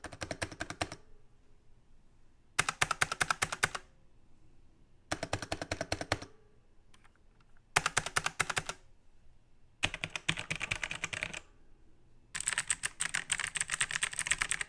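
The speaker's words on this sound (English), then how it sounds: "you can definitely hear the difference between the tactile keyboard and the clicky keyboard." Bursts of rapid typing on a Logitech G512 Carbon mechanical keyboard alternate with short silences, tactile switches versus sharper, clickier clicky switches, close up.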